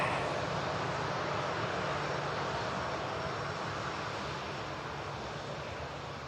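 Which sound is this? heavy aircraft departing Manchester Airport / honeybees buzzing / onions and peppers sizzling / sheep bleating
heavy aircraft departing Manchester Airport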